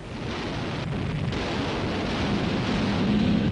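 Battle din of enemy gunfire and explosions against Marines pushing inland from a beachhead on Palau in the Pacific war, a continuous loud rumbling roar without clear separate blasts.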